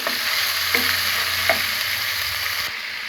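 Three cinnamon sticks and three cardamom pods sizzle steadily in hot oil for an egg korma, a close, continuous frying hiss with a couple of soft clinks as they hit the pan, ending abruptly near the close.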